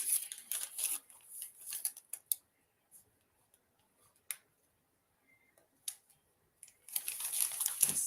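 Paper bags crinkle and rustle up close during an Amazon unboxing, with dense bursts at the start and end and sparse crackles and ticks between.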